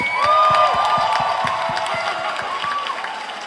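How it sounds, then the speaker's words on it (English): A talent show crowd applauds and cheers, a dense wash of clapping with a few whoops, and a voice briefly carries over the noise near the start. "Let's give them a round of applause."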